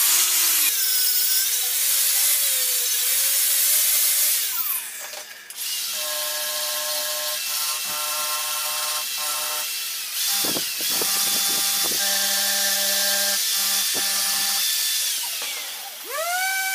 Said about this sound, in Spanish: simplemente la vamos a limpiar con la carda